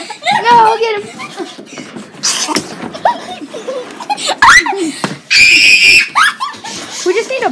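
A child screaming in loud, shrill bursts mixed with laughter and excited voices nearby, several piercing shrieks cutting through chaotic chatter.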